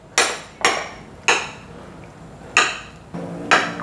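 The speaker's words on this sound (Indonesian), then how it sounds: "Sekarang tahunya mau saya potong-potong langsung aja di sini ya." Knife blade striking a cutting board while chopping white tofu finely, six sharp separate chops spaced irregularly about half a second to a second apart, close and fairly loud, with no talking.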